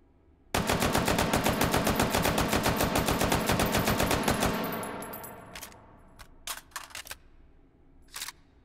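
Rapid automatic gunfire in the VR shooting game Hot Dogs, Horseshoes & Hand Grenades, a loud unbroken burst of about four seconds that tails off, followed by a few scattered single shots and mechanical clicks.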